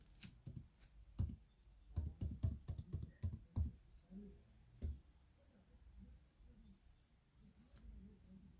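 Someone types a Wi-Fi password on a 2021 MacBook Pro 14-inch keyboard: bursts of crisp, close key clicks in an uneven rhythm that then thin out into a quiet background.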